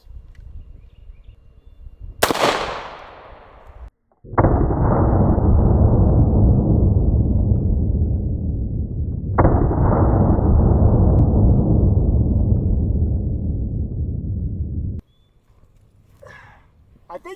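A 5.56 rifle fitted with a Jatoba wooden muzzle brake is fired outdoors. A sharp crack is followed by two loud, long booming reports that ring out and slowly decay, with low talk before and after.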